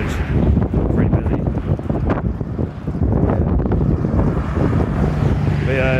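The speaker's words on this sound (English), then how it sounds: "But yeah, it actually is pretty windy," Strong outdoor wind buffets the microphone on a city street on St. Patrick's Day, a constant low rumble that swells and dips throughout, with some background noise mixed in.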